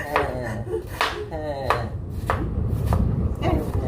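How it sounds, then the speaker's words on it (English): A knife chops food on a board at home in a steady series of crisp, close knocks, about one every half second, with no talking. "Let me show you guys how he's chopping."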